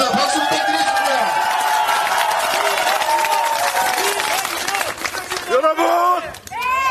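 Audience at a political rally in Gunsan breaks into sustained, loud applause and cheering for candidate Lee Seong-yun, the crowd noise holding steady before thinning out near the end, with a voice cutting through the noise.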